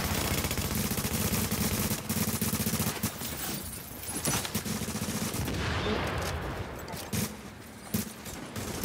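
Rapid bursts of automatic and single-shot gunfire crackle from a video game firefight, dense and loud for most of the span with brief gaps, while a player's voice is heard under the shooting.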